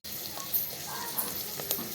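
Bitter gourd seeds fry in hot oil with cumin, giving a continuous close sizzle with a few small pops and stirring scrapes.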